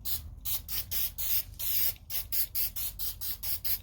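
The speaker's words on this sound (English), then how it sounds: "give a quick spritz on the inside with the brass" Brass spray paint is spritzed onto the inside of an object in a rapid series of short, hissing bursts, about a dozen close quick sprays separated by brief pauses.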